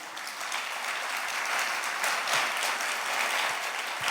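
Worshippers at a Malayalam Christian retreat clap with raised hands, a thick, continuous round of applause that builds slightly and stays loud throughout, with no talking.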